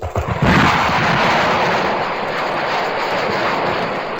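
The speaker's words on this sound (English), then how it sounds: "Stand by for rapid acceleration. Firing rockets." A spaceship's rockets fire in a radio drama effect: a sudden loud blast followed by a sustained roaring rush that holds steady and slowly eases, close and alone without voices.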